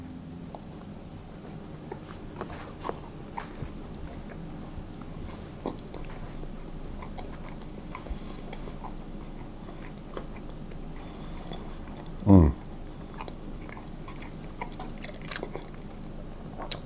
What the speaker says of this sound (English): And so I'll just open them up and have a taste.